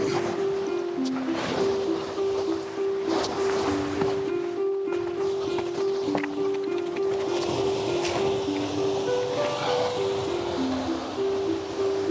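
Loud, continuous ocean surf crashing and washing against a rocky shoreline on Madeira's north coast, close by, with a steady roar of churning water and no voices.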